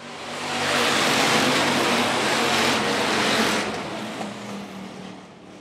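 Hobby Stock race cars run around the oval at Phillips County Raceway, giving a broad, steady roar of engines at moderate distance that swells and then slowly fades.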